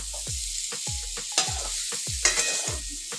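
Tamarind frying in hot oil gives a continuous hiss while a utensil lifts pieces out of the pan, making a row of dull, regular knocks and scrapes close by, with no talking.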